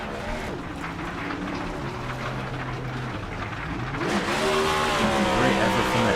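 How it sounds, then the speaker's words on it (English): A race car from a racing video game doing burnouts at Daytona, its engine wailing and tires squealing in a steady, loud stretch that rises in pitch and intensity toward the end, with commentators talking over it. "Paleshi gonna do his burnouts."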